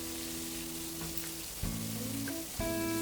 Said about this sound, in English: fry it until the onion is nice and soft